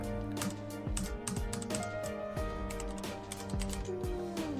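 Fast, light key clicks from a computer keyboard tap along in an irregular rhythm. Steady tonal game music plays underneath them.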